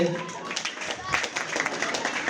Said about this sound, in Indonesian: Tepuk tangan dulu Bapak RT.